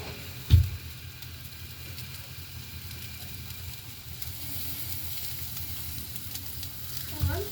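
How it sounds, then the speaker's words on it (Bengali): Chopped cauliflower and cabbage fry in hot oil with a low, steady sizzle and hiss, broken by a thump near the start and another at the close. "তো দেখুন বন্ধুরা আমি কপিগুলো কিন্তু ভালো করে আগে ভেজে নেব।"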